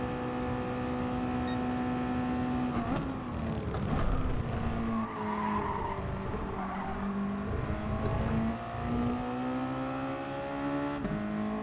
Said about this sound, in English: I'm going to rev it out a little bit more